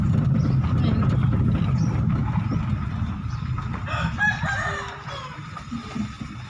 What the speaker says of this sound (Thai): โอ้ยไก่ชนอ่ะ